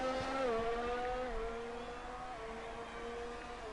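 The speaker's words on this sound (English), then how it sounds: "You see the Mercedes take off down the back straight there." A Mercedes Formula 1 car races along a back straight in a video game, its high-pitched engine whine holding steady and then dropping in pitch as it shifts and moves away, fairly faint and alone.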